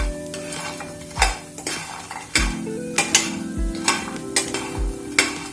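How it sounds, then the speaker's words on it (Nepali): Masaura, dried lentil nuggets, is stirred and fried in a pan, with repeated scraping clanks of a metal spoon against the pan every second or so over a soft, steady sizzle. No one speaks. "यसरी चलाउँदै पकाउँदै भुट्दै गरेपछि"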